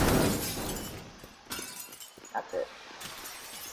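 In the Teardown video game, a glass figure of Sonic shatters, giving a loud crash and then scattered clinks of breaking glass that fade out across a few seconds.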